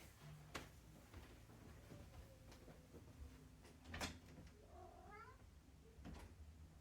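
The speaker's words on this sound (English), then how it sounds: "I'm gonna go let this cat in real quick." Indoor cat meowing to be let in, several short cries scattered among faint door and household noises at moderate distance, no talking.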